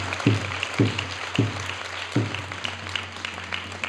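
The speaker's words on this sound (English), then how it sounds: "Big round of applause." Slow, evenly spaced claps sound at a gathering in a temple hall, about four strong beats under a steady low hum, fading into lighter scattered clapping afterward.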